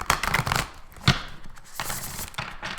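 Oracle cards are shuffled in quick, crisp riffling bursts, close up, with brief pauses and soft handling noises between them.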